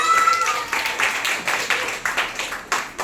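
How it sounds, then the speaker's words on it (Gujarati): Schoolchildren in a Gujarati third-grade classroom clap together for a classmate, a quick burst of claps repeated in rhythmic rounds, loud and close, with a voice speaking in the room. "ચાલો કરશનભાઈ માટે જોરદાર તાળીઓ વગાડી દો."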